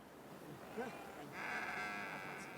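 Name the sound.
sheep bleating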